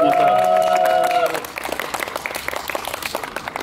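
A crowd at a youth days event in Tomaszów bursts into applause after a brief voiced tone, dense many-handed clapping that swells in and carries on steadily at a fair distance.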